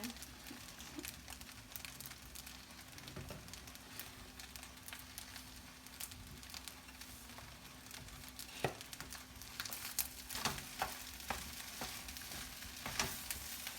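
Teriyaki Spam fried rice frying and being stirred in a pan, a steady soft sizzle with scraping and clinks from the stirring growing busier toward the end, no voices.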